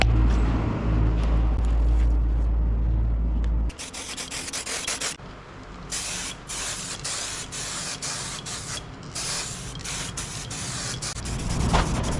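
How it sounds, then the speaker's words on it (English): A 2-pack lacquer aerosol can sprays a fine mist onto a refurbished alloy wheel from a Daihatsu Mira Turbo, loud close hissing bursts in several long and short pulses after a low rumble at the start. "I'm actually going to be using a 2-pack aerosol can"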